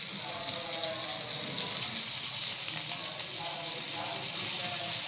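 Brinjal (eggplant) slices frying in butter in a hot pan, a steady close sizzle and crackle that holds evenly throughout with no talking.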